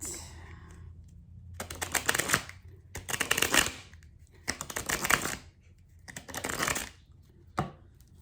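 Tarot cards shuffled by hand in repeated riffling bursts, five crisp flurries separated by short pauses and ending with a brief final snap, close and clear with no talking over them.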